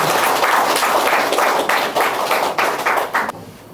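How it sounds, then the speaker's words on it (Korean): An audience applauds at a Korean literary event to welcome a sijo poet, a former chairman of the Korean Sijo Poets Association; dense, steady clapping fills the room for about three seconds, then fades out quickly. "이월 시조시인님 큰 박수로 환영해 주시기 바랍니다"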